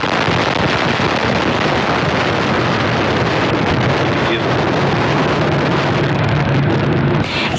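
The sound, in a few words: Antares rocket engines roaring at liftoff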